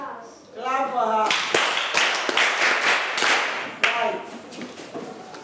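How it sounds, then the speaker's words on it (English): Group applause for a young girl: a burst of hands clapping starts after a short stretch of speech and continues steadily for several seconds, close and fairly loud. "clap for her"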